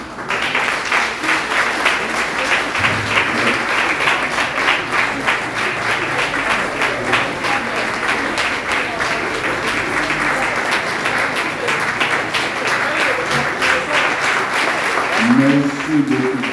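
An audience at a project results ceremony applauds the project team with sustained, loud, dense clapping that continues evenly. A brief voice is heard near the end.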